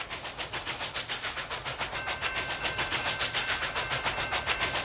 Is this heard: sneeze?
no